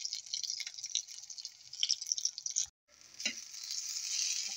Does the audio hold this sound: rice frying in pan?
yes